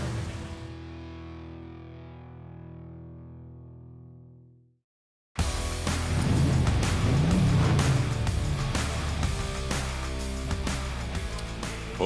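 A big-block 427 1966 Corvette at auction: a fading tone gives way to a brief gap, then a loud, rough, sustained engine rumble with a rising rev in the middle, heavily processed and distorted.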